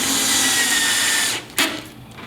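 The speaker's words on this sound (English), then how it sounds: "Now we're putting the screws in through the back and into the top." A power drill drives long screws through the back into the top of a Rockwood Kitchens wall pantry cabinet, through pre-drilled countersunk holes. It gives a steady, close whirring run of about a second and a half, then cuts off with a brief click.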